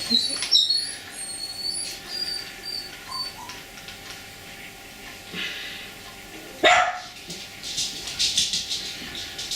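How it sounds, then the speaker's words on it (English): Dogs bark outdoors at a distance, a few scattered yaps over a steady background hiss, with one louder burst midway. "Damn dogs."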